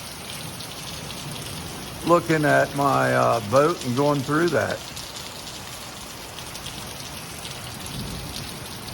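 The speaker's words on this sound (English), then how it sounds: "It's been a long time since we had a good storm like this." Steady rain pours down through a thunderstorm on a tornado-warning day, a dense hiss throughout with a faint low rumble of thunder near the end, while someone talks over it for a few seconds.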